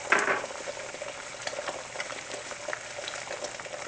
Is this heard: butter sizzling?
yes